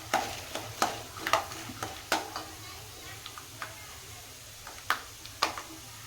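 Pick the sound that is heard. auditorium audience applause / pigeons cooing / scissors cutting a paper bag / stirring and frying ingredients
stirring and frying ingredients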